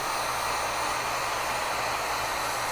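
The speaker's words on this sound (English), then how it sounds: "But I'm gonna still hit it with the heat gun, just, you know, just in case." A heat gun set on high blows over a freshly embroidered structured hat, giving a loud, constant roaring whoosh that holds steady throughout.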